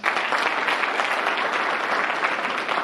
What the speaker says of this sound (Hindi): उन सब के लिए तालियां।